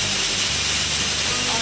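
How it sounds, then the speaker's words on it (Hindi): A pressure cooker cooking dal on a kitchen stove vents steam in a loud, steady, close hiss that holds unbroken throughout the short moment. "मेरा प्रेशर कुकर भी सीटी दे रहा है, दाल मेरा चढ़ गया है"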